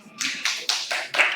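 Classroom applause for a student after a lesson: a few short, separate bursts of hand claps from a small group, sparse and fairly close, with no talk over them.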